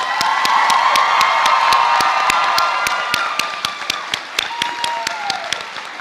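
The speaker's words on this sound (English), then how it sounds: "One more round of applause for our graduates." Graduation audience for an early college class applauds and cheers, steady sharp clapping with whoops and shouts, loud at first then thinning toward the end.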